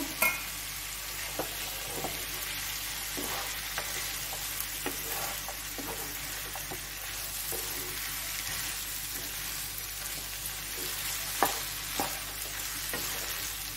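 Cooked rice is stirred into vegetables in a pan for Bengali vegetarian fried rice, a soft steady sizzle under occasional spatula scrapes and taps, fairly quiet with no speech.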